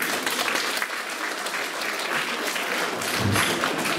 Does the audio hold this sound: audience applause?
yes